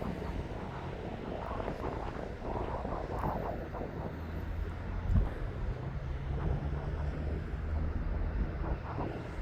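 Boeing 747 jet airliner at East Midlands Airport, a steady broadband engine roar with wind buffeting the microphone, moderately loud and continuous throughout, no voices.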